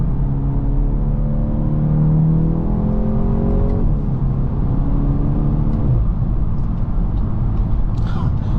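A 2024 Volkswagen Golf GTI engine revs loudly from the cabin, its rising harmonic note climbing steadily, dipping around the midpoint, then pulling up again with a faint whine, continuous road and engine rumble underneath.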